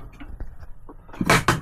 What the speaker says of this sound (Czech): Tady je zásuvka.